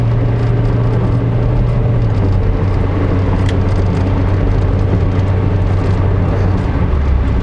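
A used Nissan Sunny accelerating past 100 km/h, its interior filled with a steady, loud roar of road and wind noise over a low engine hum that steps down in pitch partway through.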